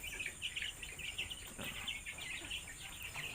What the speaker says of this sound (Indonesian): ini adalah beberapa ayam milik saya yang saya miliki